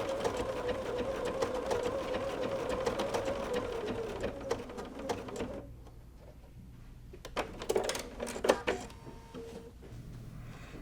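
Sewing machine quilting along a fabric edge with an edge foot, whirring steadily at first, then pausing and restarting in short bursts of stitching, fairly quiet with no talk.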